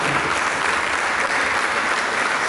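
Continuous, even clapping from a church congregation during a sermon, a full room of hands applauding steadily with faint crowd murmur underneath.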